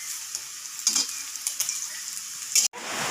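Pointed gourd and potato fritters fry in hot oil in a kadai, giving a continuous close sizzle with small bursts of crackle as pieces are moved, then a brief cut before the frying resumes; no talking.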